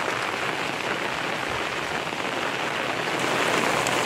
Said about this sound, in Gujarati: કન્ટિન્યુ ભાઈ વરસાદ છે ને બંધ થવામાં જ ન સમજતો